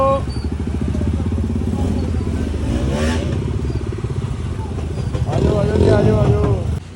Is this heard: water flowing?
no